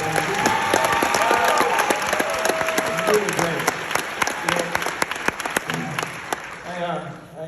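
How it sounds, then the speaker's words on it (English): An audience at a university honorary doctorate ceremony claps loudly and steadily, with some cheering, then the applause thins out while someone speaks briefly over it and musical tones sound underneath. "let's give Will another big round of applause for singing one of the songs."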